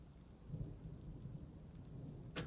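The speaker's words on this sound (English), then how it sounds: "By the way, these thunder sounds," Thunder and rain from the Dwarf Fortress video game: a low, steady rumble with continuous rainfall, rolling swells through the middle and a sharper crackle right at the end, heard alone.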